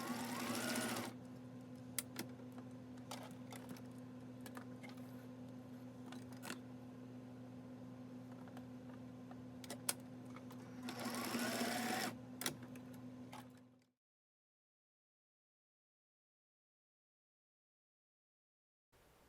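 A sewing machine hums and stitches steadily as it tacks elastic onto a sleep bonnet, running quietly for about fourteen seconds with a brief faster burst near the end before stopping into silence.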